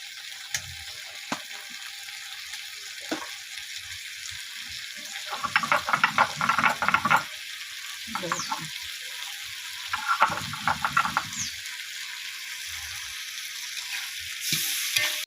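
Onion and cumin paste fries in a pan with beans and dried fish, sizzling steadily close by while a utensil stirs in bursts of scraping, clattering strokes, no voices present.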